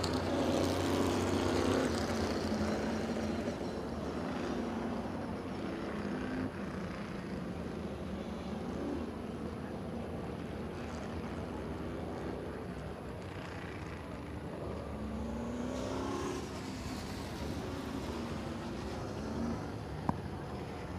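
Race cars circle the oval at Birch Run Speedway, their engines a continuous distant drone with rising and falling passes over a steady background rumble and no talking.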